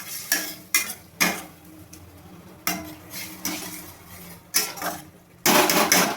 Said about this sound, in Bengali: এবার আমি ভালো করে নাড়িয়ে নেব।